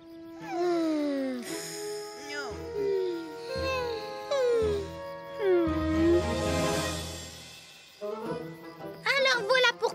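Cartoon puppies whimpering and whining in a children's animated adventure, with a series of high, falling whines and yelps, some babbling vocal sounds, and a burst of noise in the middle.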